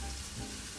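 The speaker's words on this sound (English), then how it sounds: "We start by frying up the chili and the onions." Chili and onions frying in a little oil, a steady broadband sizzle with a soft crackle throughout, close and continuous with no voices.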